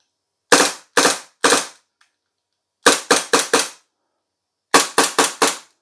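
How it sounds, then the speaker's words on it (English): A WE M92 gas blowback airsoft pistol fires full auto in three sharp bursts of three to four loud, snappy cracks, each burst separated by a pause, close up with no talking. "we'll do a little quick blowback action here. Full auto."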